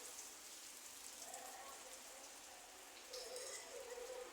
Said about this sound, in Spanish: ¿Escuchan la lluvia?